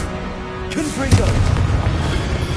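A Confringo blasting spell bursts in Hogwarts Legacy, a low booming explosion arriving about a second in and rumbling on beneath dense game music and effects.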